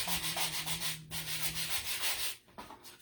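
A sanding block rubs over a yarn Christmas tree to distress it, giving steady, close scraping strokes in a continuous rhythm that stops briefly near the end.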